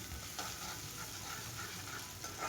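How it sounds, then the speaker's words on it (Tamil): Onions sizzling and sautéing in hot oil over a medium flame, a constant frying crackle with occasional stirring scrapes, quiet and close, no talking. "இது எண்ணெயில் வதங்கட்டும் வெங்காயம் கண்ணாடி பதம் வர அளவுக்கு வதக்கிட்டே இருக்கலாம்"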